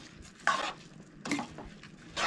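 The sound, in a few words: stirring rice into pulao in a pot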